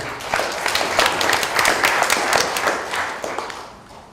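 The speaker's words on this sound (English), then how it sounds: "So we have a big applause for him." A conference audience applauds to welcome a keynote speaker at a public health panel, a lively burst of many clapping hands that swells, holds, then tapers off toward the end.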